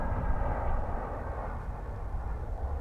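An Airbus A321 arriving from Palm Springs at DFW airport, passing with a steady, moderately loud jet roar dominated by low rumble, continuous for the few seconds heard.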